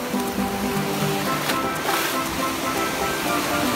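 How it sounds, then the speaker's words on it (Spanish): Gentle ocean waves wash onto Varadero beach in Cuba, where the surf is mild and the water warm, making a steady broadband rush of water close by with soft swells and no talking. "Playa de Varadero, el agua al entrar está tibia, las olas no son fuertes"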